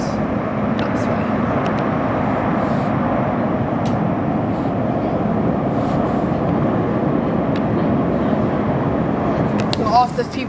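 Elizabeth line train running between Abbey Wood and Canary Wharf, a steady loud rumble and hum of the carriage that holds level throughout, with a brief rattle near the end.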